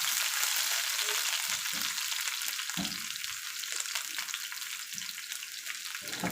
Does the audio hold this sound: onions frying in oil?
yes